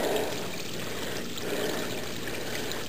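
Water from a spring or runoff runs beside a mountain road on a hike, a steady rushing trickle heard close and continuous, with no talking.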